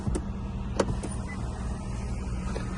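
Electric sunroof motor running on a 2018 Nissan Rogue SV, a steady low whirring hum heard close up inside the car for a few seconds, with a couple of faint clicks.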